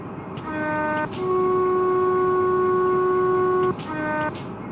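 In Train Simulator Classic, a train horn on the Trent Valley line sounds a short two-tone blast, then a long sustained steady note and another short blast, loud over constant engine and rail rumble.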